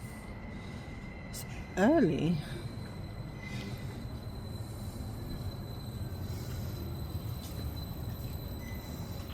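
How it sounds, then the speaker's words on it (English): A train rumbles steadily as it rolls into a station in Oslo, Norway, with a brief rising-falling whistle-like tone early on and a person speaking briefly. "That's my train."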